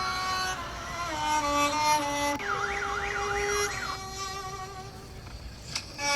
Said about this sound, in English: We have a clip playing where you have sirens in the background and the instrument in the foreground